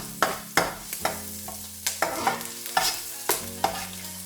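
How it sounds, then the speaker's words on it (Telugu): Gnocchi fry lightly in a pan while a utensil stirs them, giving repeated sharp scraping clacks about every half second over a soft sizzle. "ఇవి లైట్గా వేయించుకోండి."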